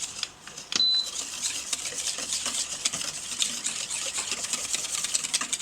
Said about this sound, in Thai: คนให้ส่วนผสมเข้ากัน